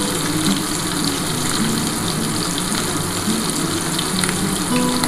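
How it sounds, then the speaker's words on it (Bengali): Hilsa fish pieces frying in hot oil in a pan, a dense, loud and continuous sizzle and crackle that carries steadily without pause. "আর এক পিঠ ভেজে নিচ্ছি"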